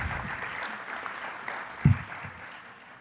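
An audience at a Thursday youth sabha gives a round of applause, a dense crowd clapping that holds steady with a single thump partway through, then gradually tapers off toward the end.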